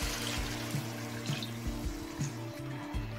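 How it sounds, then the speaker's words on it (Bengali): Hot water poured into a pot of fried Gobindobhog rice and lentils for khichuri, a steady soft splashing pour with a low bubbling sizzle beneath, fairly quiet and close. "এবার পরিমাণ মতো গরম জল দিয়ে দেবো।"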